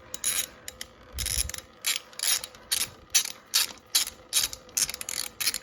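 A ratchet with a 12 mm socket on an extension loosens a bolt on a new ATV during an oil change, giving a rapid series of loud, close clicking bursts in a steady back-and-forth rhythm.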